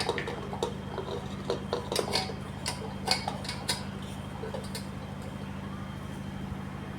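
Half a kilo of thinly sliced ivy gourd pieces is tipped into a cooker pot, making light clattering and ticking taps up close that ease off into a quieter steady background hum.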